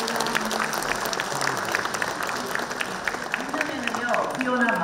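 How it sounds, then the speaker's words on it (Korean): Audience applause at a Korean-American Day proclamation celebration fills the room steadily, with a voice talking over it and tonal music or chatter in the background. "축복해 주시고 박수 쳐주시기 바랍니다"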